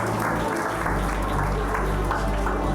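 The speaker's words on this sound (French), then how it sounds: "Merci à mes copains de table pour les applaudissements" An audience at a French press and media innovation awards night applauds in a dense, steady wash of clapping that lasts throughout.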